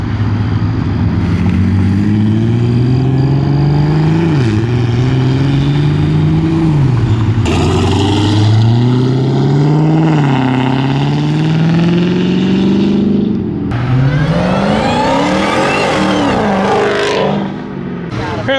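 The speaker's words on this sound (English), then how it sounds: "Got that M440i that makes all that power rolling out," BMW M440i and Dodge Hellcat Redeye pulling away from a rowdy car meet, loud engines rising and falling through several revving pulls with crowd noise around them.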